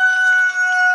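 A young rooster giving a short, clear, sustained crowing call in a backyard chicken coop, close and loud, about a second long.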